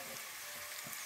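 Ghee sizzling in a frying pan with vegetables for a vegetarian rice dish, a brief, even hiss heard close with no talking.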